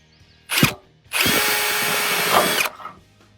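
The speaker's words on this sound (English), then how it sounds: "Terry has never drilled a hole in his Jeep yet in 3 or 4 years of ownership." A power drill bores a hole through the fender of a Jeep JK, with a short burst of drilling followed by a longer, steady, loud run before the motor stops.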